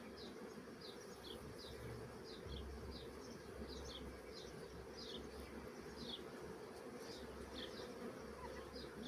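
Honeybees hum in a hive colony opened for frame inspection, a soft, continuous buzz with individual bees zipping past now and then. It stays faint and even throughout, with no voices.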